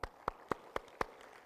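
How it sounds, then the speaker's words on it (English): Five sparse, evenly spaced hand claps ring out at a youth climate conference opening, faint and isolated against a quiet room. "Give him a hand clap."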